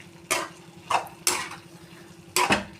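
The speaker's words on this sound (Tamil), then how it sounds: "இதை அப்படியே நல்லா மிக்ஸ் பண்ணிக்கலாம்." A spoon stirs snake gourd and chickpea curry in a pot, making four distinct scraping clatters at irregular intervals over a quiet background.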